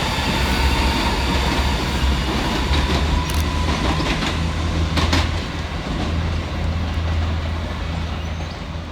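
A ScotRail Class 334 electric train rolls through Edinburgh Haymarket, its loud, close rumble steady with wheel clatter and a few sharp squeals as it passes.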